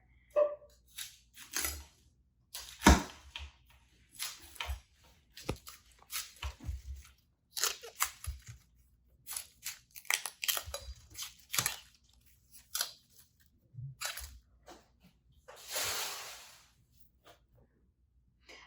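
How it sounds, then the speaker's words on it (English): A knife cuts cauliflower florets in a strainer, giving faint, intermittent crunchy snaps and tearing cuts spaced irregularly, close by with quiet gaps between and no talk. "I'm just going to cut off all the florets with my knife directly in the strainer"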